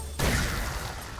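A sudden burst from a headshot explosion in the video game Far Far West, one abrupt shattering blast that rings out and decays over about a second.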